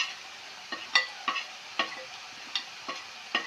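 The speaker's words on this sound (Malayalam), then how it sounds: "നമ്മൾ വെച്ച സവോളയൊക്കെ ഏതാണ്ട് ഫ്രൈ ആയി തുടങ്ങി." Sliced onions sizzle softly in a pan with turmeric and chili powder while a spoon taps and scrapes in about nine sharp, irregular strokes over a faint frying hiss.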